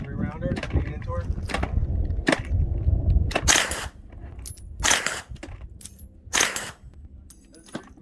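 Gun firing short bursts at an indoor shooting range, several sharp loud cracks spaced a second or so apart, with low rumbling and brief voices between shots.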